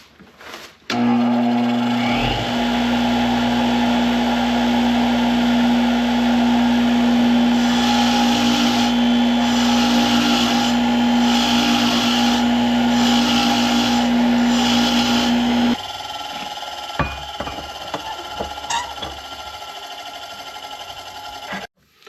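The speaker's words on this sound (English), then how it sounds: "It's all seized up, so we're going to wire wheel it, clean them up, lube them up." A wire wheel scrubs a seized, rusty brake caliper bracket from a 2003 Ford F250 Super Duty, a loud steady whine with grinding texture lasting about fifteen seconds, then spinning down into light clatter.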